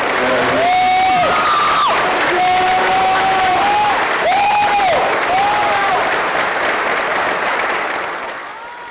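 Graduation audience at a Class of 2022 ceremony clapping for their families: dense, sustained applause with cheers and whoops rising over it, loud and steady for about eight seconds before tapering off.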